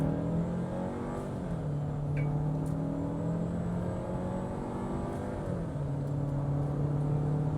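A Renault Duster engine accelerates, giving a steady, moderately loud hum whose tones climb and settle in smooth shifts as the revs change, with no one talking.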